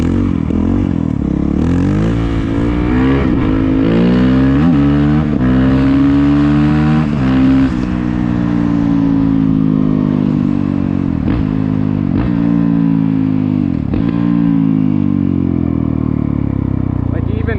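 Honda CRF450L dual-sport motorcycle engine accelerating, its pitch sweeping up and dropping at shifts through the lower gears, loud and close, with a rider talking over it throughout.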